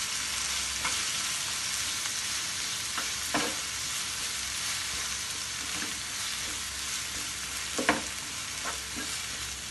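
Tomato chutney sautéing in a pan with salt added: a low, even sizzle with a few sharper scrapes from stirring, one louder clatter near the end, and no voices.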